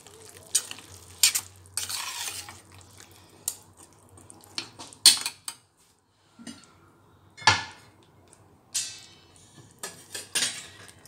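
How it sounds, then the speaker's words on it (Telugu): Chana curry being stirred in a pan, with a spoon scraping and clinking against the metal in irregular bursts over a soft sizzle, close by and without talk. "ఇక్కడ మంచి కలుపుకోండి."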